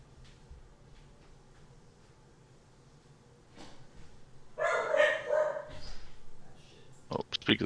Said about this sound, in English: These dogs barking.